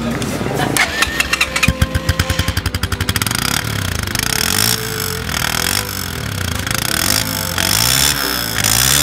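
A motorcycle engine cranks with a quick run of rhythmic pulses, then catches and settles into a steady running drone, loud and close, with other sound layered over it.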